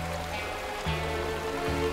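Water gushes into a sinking cartoon ship like a waterfall, a loud continuous rushing stream with deep tonal hum beneath, steady throughout the short moment.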